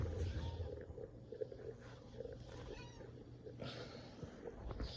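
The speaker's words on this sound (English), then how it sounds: "it's the cat" A house cat gives a few faint meows indoors over a low, steady background hum.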